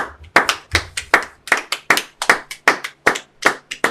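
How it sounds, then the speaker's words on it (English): Hand claps at a Sabbath church service, a loud, close, rhythmic series of sharp claps in a steady beat, about three per second, with no voices over them. "clap it up for the brother"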